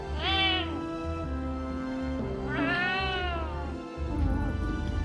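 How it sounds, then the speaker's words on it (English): A loud, talkative house cat meows back at its owner, two long drawn-out yowls close up, with a low steady background hum. "I don't know about how other cats work, but he does talk back."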